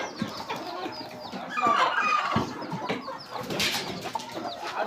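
A flock of chickens clucks continuously on a small farm kept with turkeys, goats, ducks and chicks, a busy overlapping chorus of fowl calls with no talk.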